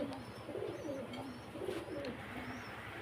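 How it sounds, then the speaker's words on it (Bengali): Pigeons coo steadily at a pigeon farm, with layered, overlapping low throaty calls pulsing close by and a few faint chirps above them. "চলেন কবুতরগুলো দেখে আসি"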